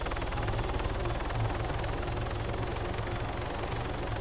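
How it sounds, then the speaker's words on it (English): Helicopter in the Arma 3 video game, a steady, dense rotor chop and turbine wash droning continuously at even volume with no pauses. "helicopter too noisy, hit end on the keyboard"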